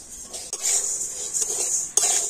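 Raw rice stirred in a pan while being roasted for puffed rice, a bright, dry rattling hiss that swells in bursts between brief pauses, with utensil scrapes against the metal, close and alone.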